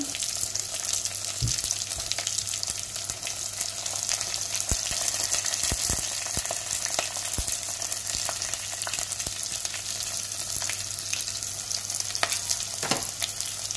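Fennel seeds and onion hiss and crackle in hot oil for a Jaffna-style beetroot curry, a steady close sizzle running throughout with occasional sharp clicks from stirring.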